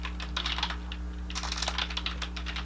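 Quiz text being typed on a computer keyboard, a quick run of light clicking keystrokes in two bursts over a steady low electrical hum.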